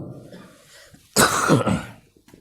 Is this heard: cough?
yes